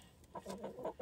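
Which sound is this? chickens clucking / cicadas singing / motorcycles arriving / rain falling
chickens clucking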